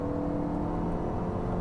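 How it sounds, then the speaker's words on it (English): A 2025 KGM Torres engine drones under acceleration, a steady, fairly loud mechanical roar heard from inside the moving SUV with no talking over it. "the engine does get a little loud"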